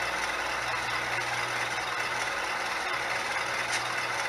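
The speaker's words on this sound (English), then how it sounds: "here comes the 45-ton GE side rod HON3 engine." Sound module of a 3D printed HOn3 model GE 45-ton side-rod boxcab diesel locomotive with DCC, giving a steady, fairly quiet idling engine drone with a low throb and no talk.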